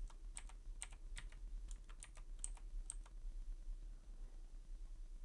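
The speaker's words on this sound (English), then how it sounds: "From Start menu search box, type Services" Quick bursts of typing on a Windows 10 computer keyboard, a run of close, crisp key clicks over about three seconds before falling quiet against a faint steady hum.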